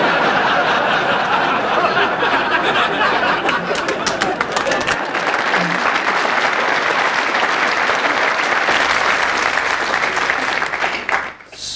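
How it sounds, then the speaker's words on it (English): An audience bursts into loud, sustained applause at a live comedy evening, dense clapping from a large crowd with scattered chuckles, continuing for about eleven seconds before abruptly fading. "Spontaneous bursts of applause."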